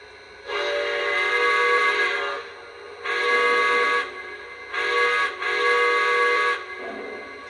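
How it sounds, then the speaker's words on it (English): A Lionel Legacy model steam locomotive's factory whistle sounds four times, steady breathy tones, the last two in quick succession, close and clear with no talking. "The whistles go woo! Here's the first, or factory one."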